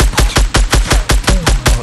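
SCAR assault rifle firing in Fortnite, a loud, rapid burst of about ten sharp, evenly spaced shots close up, with no voices over it.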